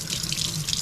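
Tap water runs steadily into a sink while lemons are washed, a close, continuous splashing hiss over the whole brief moment.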